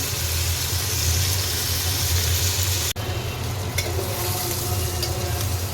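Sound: prawns frying in a pan

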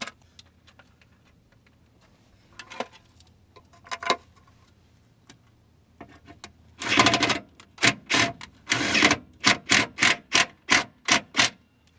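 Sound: impact wrench tightening bolts on a GMC Sierra transfer case guard

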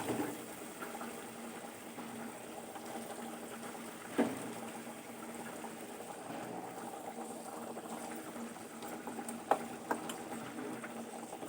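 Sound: pabda fish being added to a pan on low gas flame

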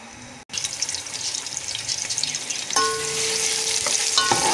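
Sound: onion frying in oil

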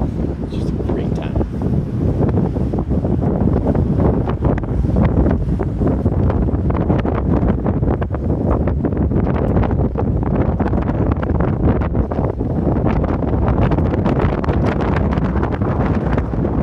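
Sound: wind on a golf driving range

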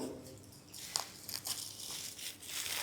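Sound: opening a wrapped surprise package

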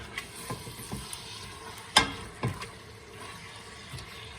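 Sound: diced meat stirred and frying in a pot

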